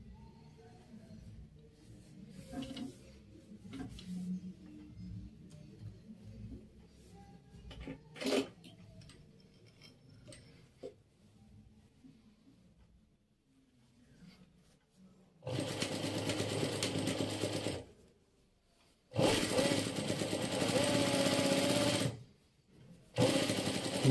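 A sewing machine stitches a side pocket in fabric. After quiet handling noises it runs in three loud, steady bursts of rapid mechanical whirring, each lasting a few seconds with short pauses between.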